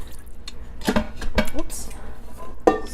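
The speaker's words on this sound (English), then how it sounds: "Let me do a quick rinse." An Instant Pot's stainless inner pot gets a quick rinse with water, with clanks of metal against metal and drips in a few close bursts while a person speaks briefly.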